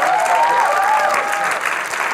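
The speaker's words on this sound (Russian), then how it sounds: "Под ваши аплодисменты" A television studio audience claps on a comedy joke show, loud and continuous, while a voice speaks over the applause.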